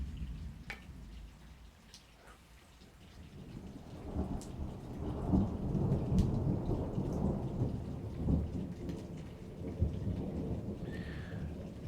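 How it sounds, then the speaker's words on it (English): A long, low rumble of thunder rolls and swells over steady rainfall, with scattered drips. "Listen to the thunder."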